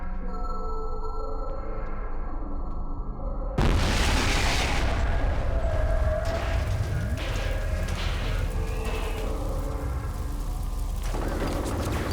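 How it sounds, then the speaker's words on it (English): A grenade goes off in the video game F.E.A.R., a sudden loud booming blast that cuts into quieter game music and rumbles on for several seconds. "Watch out! Grenade!"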